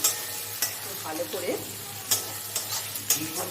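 Chopped tomatoes fry with onion and garlic in a pan for doi rui, a steady sizzle broken by repeated clacks of a spoon stirring against the pan, close by, with a voice briefly speaking.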